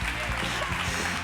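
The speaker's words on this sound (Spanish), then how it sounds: "un aplauso para Iñaki Urrutia." Audience applause at a televised interview event, a dense, loud wash of clapping filling the brief moment with no gaps.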